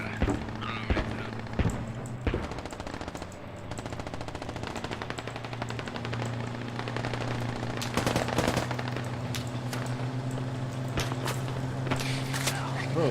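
Gunfire rattles through a squad-based infantry video game as rapid machine-gun bursts and single shots crack over a steady engine-like drone, with footsteps and people talking throughout.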